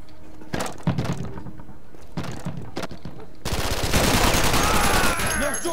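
Video game gunfire, a few separate thumping shots followed by a sustained loud burst of rapid automatic fire, with no voices over it.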